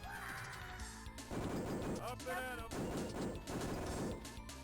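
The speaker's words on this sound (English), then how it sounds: "He throws bombs around for a while and then rather conveniently blows himself up" Explosions from bombs thrown around in The Simpsons Arcade Game: repeated crashing booms, steady and loud, mixed with game music and effects, with a voice speaking over them.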